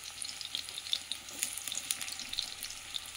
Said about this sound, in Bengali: প্রথমে একটু আলুগুলোকে ফ্রাই করে নেব।